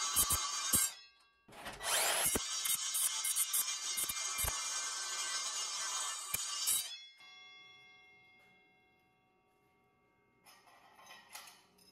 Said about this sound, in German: dann werde ich mal noch ein paar Trennschnitte damit machen.